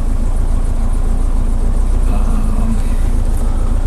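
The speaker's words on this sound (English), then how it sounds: "That's its idle. Looks like it's idling around" A 1987 Itasca Phasar motorhome engine idles at roughly 800 to 900 rpm, giving a steady, even low rumble that stays close and constant throughout.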